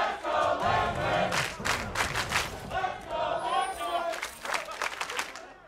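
An esports arena crowd at a League of Legends match between CLG and Team Liquid roars and chants in loud surging waves, with a caster's voice talking over the noise.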